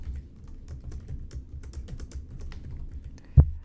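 A computer keyboard is typed on in a quick run of soft, close key clicks while a password is entered, with a single sharper tap near the end.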